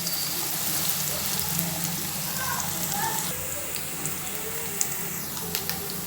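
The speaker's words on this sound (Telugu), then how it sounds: "ఉల్లిగడ్డ పచ్చిమిర్చి వేస్తానండి వేసి వేయించుకుంటాం" Onions and green chillies frying in a pan, a soft steady hiss and sizzle with light crackles and a few small clinks near the end.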